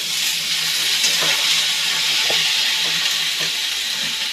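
Eggplant pieces frying with turmeric in a pan give a steady, close sizzling hiss, with a few soft stirring clicks and no voices.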